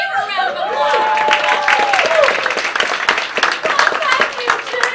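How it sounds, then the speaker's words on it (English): A live audience at a comedy cabaret show claps and cheers to welcome a guest, a lively burst of applause mixed with crowd chatter and voices. "Give her a round of applause."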